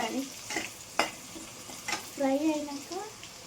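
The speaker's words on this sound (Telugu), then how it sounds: "ఆనియన్స్ ఫ్రై అయినాయి" Onions frying in a pan, a quiet crackling sizzle with a few sharp spoon taps and scrapes, fairly soft and close.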